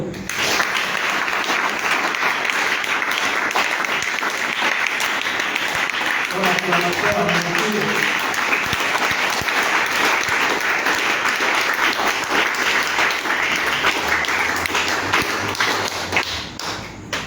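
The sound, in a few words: congregation applauding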